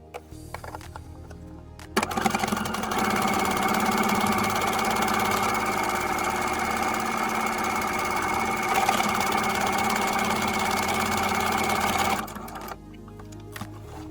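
A sewing machine stitches a buttonhole, starting abruptly with a steady mechanical whir and rapid needle clatter that holds evenly for about ten seconds before stopping, close and alone.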